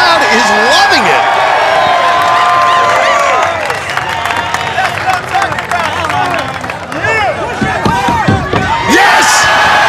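A large crowd roars and cheers loudly and continuously at a Sasuke obstacle course competition, with excited shouting and clapping swelling and dipping throughout, and voices rising above the din.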